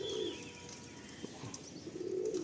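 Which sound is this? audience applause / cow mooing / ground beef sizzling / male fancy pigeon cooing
male fancy pigeon cooing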